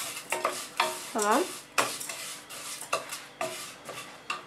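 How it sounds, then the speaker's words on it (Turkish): A utensil stirs and scrapes food frying in a pan, giving several separate sizzling strokes with scraping clinks. A brief spoken word comes in near the start. "Sonra kavuruyoruz. İyice karıştırıyoruz."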